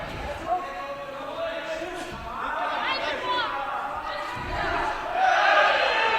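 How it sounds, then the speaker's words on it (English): German supporters cheer and shout at an amateur boxing semifinal, a heavyweight bout at the GB Open 2024. Crowd voices swell in waves and grow louder toward the end, with arena chatter mixed in. "Big cheer from the German contingent behind us"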